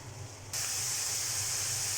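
Vegetables and chicken frying in oil for noodles: a quiet low hum gives way after half a second to a loud, steady, close sizzling hiss that lasts to the end.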